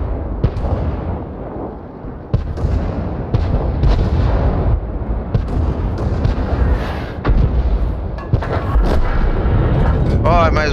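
Artillery fire from an M44 self-propelled gun in the tank battle game World of Tanks, heavy booming blasts and rumbling explosions repeating over a dense, loud battle background.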